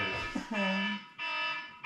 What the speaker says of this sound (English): Oh, that's my 6 o'clock alarm.